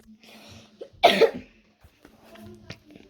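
A single harsh cough bursts out close to the microphone, with soft murmured speech before and after it.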